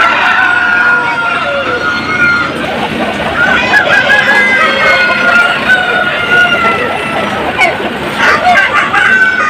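A rooster crows repeatedly inside a chicken shed, the loud strained calls mixed with hen clucking and general barn noise, with a voice speaking now and then.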